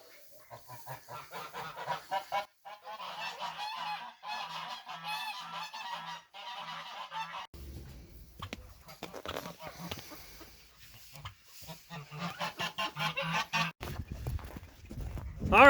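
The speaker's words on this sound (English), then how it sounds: "Geese are noisy, very noisy." Geese honk repeatedly in loud, overlapping bursts, with a person talking in between and over the calls.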